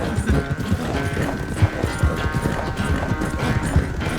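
Rapid rhythmic hoofbeats of a galloping horse in the video game Red Dead Redemption 2 drum steadily throughout over a low synthetic background hum, with no talking.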